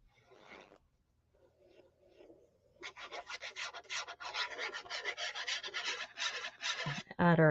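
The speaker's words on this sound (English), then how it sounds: "I'm just going to give this a burnish because from when I cut it," A burnishing tool rubs firmly across freshly cut paper for an album kit, giving a run of quick, rhythmic scraping strokes, faint and soft at first, then louder and steady, ending in a sharper scrape.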